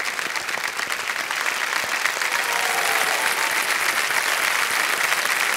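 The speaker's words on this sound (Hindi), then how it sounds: "तालियां बज जाए उनके लिए, अनुश्री जी के लिए।" A studio audience on the KBC India quiz show breaks into dense, sustained applause. The clapping stays loud and steady throughout, with no break.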